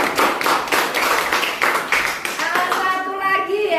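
Classmates clap for a student named Cecil after she finishes presenting in a school lesson, a brief burst of close, dense handclaps with a teacher's voice and a few chatty tones emerging near the end.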